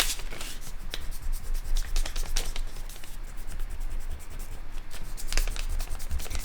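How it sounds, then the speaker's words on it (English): Pencil eraser rubbing back and forth on a paper page, a steady, close, dry scratchy scrubbing with quick repeated strokes throughout, no talk over it. "We have to erase."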